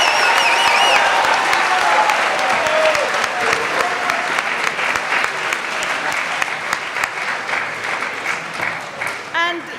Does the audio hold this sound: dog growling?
no